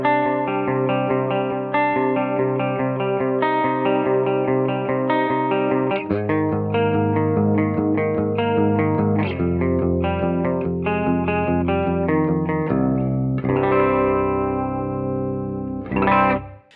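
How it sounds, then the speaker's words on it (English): A clean electric guitar through a Quad Cortex plays chords and single notes, shimmering with a 2290 chorus effect and a light wash of plate reverb, loud and continuous. "after the amp we have the 2290 chorus and a touch of plate reverb"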